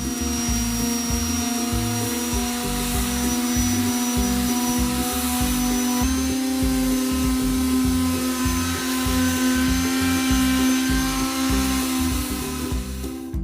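A power sander works a wooden planter box with a steady, droning whine that holds constant throughout. It is close and fairly loud, with no one talking over it.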